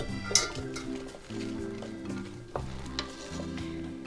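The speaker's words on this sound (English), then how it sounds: "I am just going to mix them in with the rice." Black beans being stirred into brown rice in a hot pan, a steady scraping, sizzling mix with a few clinks of utensil on metal, heard up close without talk.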